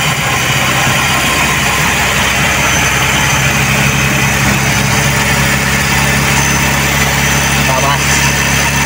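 A Toyota 2E engine with an auto choke idles at raised RPM during a cold start, a loud, steady close-up hum with constant mechanical drone, while someone talks over it.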